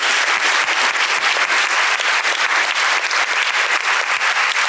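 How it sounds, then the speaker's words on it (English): Sustained crowd applause at an alumni award ceremony honoring panelists, a loud, dense wash of many hands clapping steadily throughout with no talk over it. "another round of applause for Sue,"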